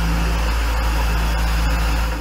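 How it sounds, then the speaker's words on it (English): Vaillant ecoMax boiler kettling as water boils inside the heat exchanger, a constant low rumbling roar with faint crackling and bubbling, steady and close with no voices. "Kettling is when the water inside the boiler starts to boil,"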